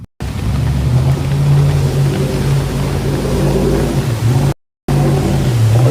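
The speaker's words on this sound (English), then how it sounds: "That car's exhaust completely underwater. It's like a boat." Loud, steady engine drone with a bubbling, gurgling low rumble from a car's exhaust running completely underwater, continuous apart from brief cuts.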